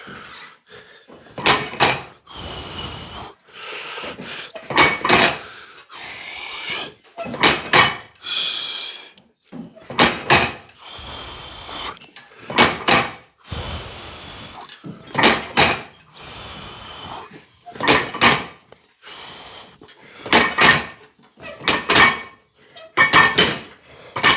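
Heavy gym weight stacks slam down again and again during a leg workout, with loud, sharp metallic clanks at an uneven, rep-paced rhythm over about twenty-four seconds and no speech.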